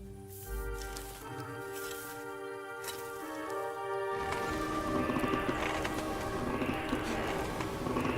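Horse in the medieval role-playing game Kingdom Come Deliverance II, freshly shod, heard as a whinny and hoof clip-clop over steady game ambience and music, with the activity growing busier and louder in the second half.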